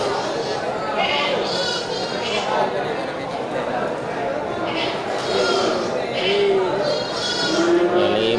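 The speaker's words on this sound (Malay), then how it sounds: "ini kambing kacang ya, kambing Aceh" Kacang goats, also called Aceh goats, bleat repeatedly at a livestock market in Bireuen, several calls rising over a dense crowd murmur, with people talking nearby throughout.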